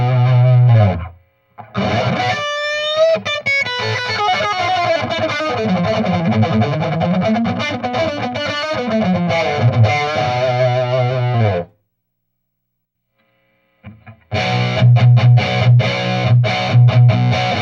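Electric guitar through a Mesa Boogie Mark V amp in Extreme mode, heavily distorted riffs and sustained chords, loud and close, broken by a brief silence before the playing resumes.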